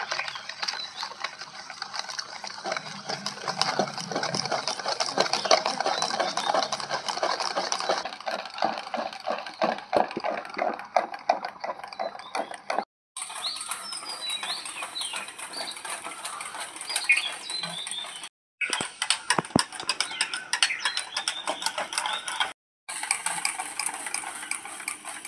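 Warm liquid milk being stirred into mango cake batter in a bowl, a steady close scraping and sloshing with rhythmic utensil clinks against the dish, continuing for a long stretch with brief gaps.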